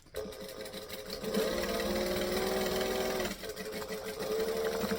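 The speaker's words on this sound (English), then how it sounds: "So I'm pulling back the top and I'm just going to stitch there." A sewing machine stitches a bag with a steady, close, continuous mechanical whir that dips briefly partway through, with no talking.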